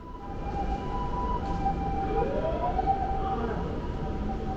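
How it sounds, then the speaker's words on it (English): An ambulance siren wails continuously from outside a Japanese department store, its rising and falling tone muffled and steady over an indoor crowd murmur with no clear talk. "You can hear the sound of the ambulance because up the steps on the right is the outside."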